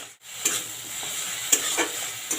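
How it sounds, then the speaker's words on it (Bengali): Spice masala of Kashmiri chilli, cumin powder and kasuri methi cooks down with a little water in a pan for an egg and potato curry, with a steady soft sizzle and several sharp spoon scrapes against the pan. "অল্প জল দিয়ে এবার ভালো করে মশলাটাকে আমি কষিয়ে নেব"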